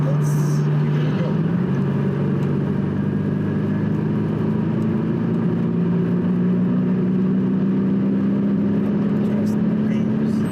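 Audi S8 pulling hard on a de-restricted road, a steady engine drone with a pitch that climbs slowly across the whole stretch, heard from inside the cabin with constant road and wind noise underneath.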